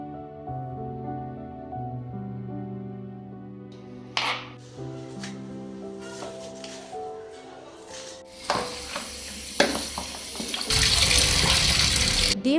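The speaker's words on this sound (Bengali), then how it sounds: "প্রথমেই 2 আঁটি ধনেপাতা এইভাবে কেটে ভালো করে ধুয়ে নিচ্ছি।" Tap water running as two bunches of chopped coriander leaves are washed in a kitchen, with a steady stream, splashing and handling sounds that grow louder toward the end, no talking.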